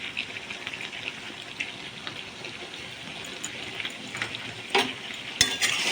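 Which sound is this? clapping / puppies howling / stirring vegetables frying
stirring vegetables frying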